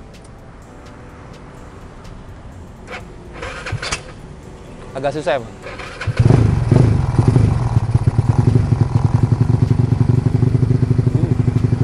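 After some clattering and a brief spoken remark, an upgraded Yamaha Nouvo scooter engine cranks and catches, then runs loud and steady with a fast, even putter.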